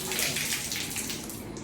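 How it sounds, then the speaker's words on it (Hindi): Shoes being washed and wrung out by hand, releasing a steady continuous rush and splash of water close by, with no talking. "ये देखो कैसे धो रहे हैं, पूरा पानी निचोड़ दिया इन्होंने।"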